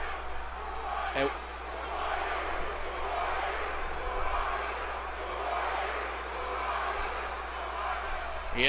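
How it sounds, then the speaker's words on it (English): A wrestling video game crowd chants steadily at a moderate distance, a rolling rhythmic swell that carries throughout, with commentary talk over it. "you hear the crowd chanting, "Who are you?""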